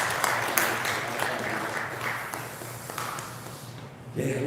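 A church congregation applauds after a prayer, a sustained rush of clapping with a few sharp louder claps and thumps, dipping near the end before a voice begins to speak.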